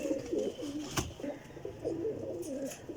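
A teddy pigeon coos repeatedly in soft, rolling low phrases, moderately close, with a sharp click partway through and faint background noise.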